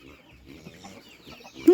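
A chicken on a family farm gives soft, low clucks in a short run of murmured notes, fairly close but quiet, ending in a brief louder squawk.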